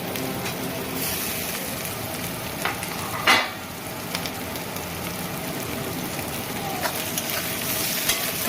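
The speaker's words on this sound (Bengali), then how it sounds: "খুব ভালোভাবে ভেজে নিতে হবে এখন এই একই সাথে দিয়ে দেবো হচ্ছে চপ করে রাখা রসুন" Chopped garlic sizzling in hot oil in a pan for a tadka, a steady crackling hiss with occasional stirring clinks and pops, close and alone without talk.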